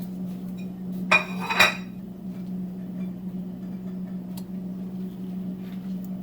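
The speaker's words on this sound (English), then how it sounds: "I'm going to put everything into the pot, and I'm going to add 3 eggs over here to boil with it." Cassava and eggs go into a metal cooking pot with a brief cluster of sharp clinks and knocks at close range. Afterward only a low, steady hum remains.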